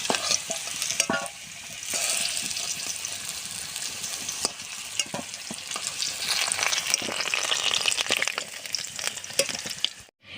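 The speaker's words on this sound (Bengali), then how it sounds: "মাংসের আলুগুলো আমার সুন্দর করে ভাজা হয়ে গেছে" Mutton and potatoes frying in a pan with turmeric in a village kitchen, a loud continuous crackling sizzle with frequent sharp spatters and occasional stirring, no speech.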